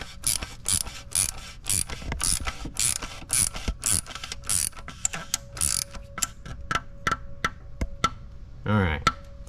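A ratchet tightening the oil filter bolt on a 2021 Chrysler Pacifica, rapid metallic clicking in repeated bursts that slow to single clicks, close and loud, with a brief whine near the end.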